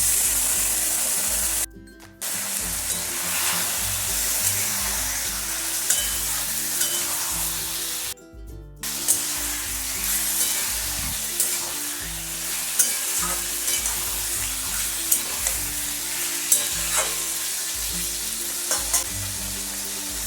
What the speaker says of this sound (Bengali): এরপর দিয়ে দিচ্ছি ধুয়ে রাখা চিকেনটা।